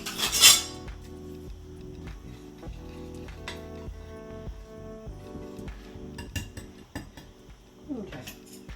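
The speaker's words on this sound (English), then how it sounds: "Put all our seasonings in. And we're going to mix it." A utensil clinks and scrapes against a bowl while seasonings are mixed for buttermilk mustard chicken strips, making irregular light taps and rattles at close range, fairly quiet, with no one talking.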